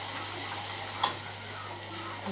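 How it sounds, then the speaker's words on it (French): Butter is stirred into caramel in a pan: a steady sizzle and frying hiss continues throughout, with one brief louder scrape or spatter midway. "4 sachets de beurre sont dedans et vous touillez."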